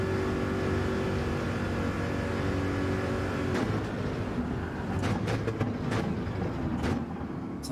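A Corvette racing in Gran Turismo 7, its engine holding a steady droning roar throughout, with a few sharp clicks and knocks near the end.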